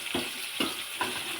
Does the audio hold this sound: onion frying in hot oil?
yes